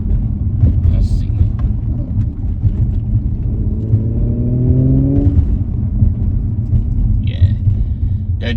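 A car with a transmission mount insert rumbles along as it downshifts from second to first gear, the engine note rising and falling in a smooth sweep under a steady low drone, while a person speaks.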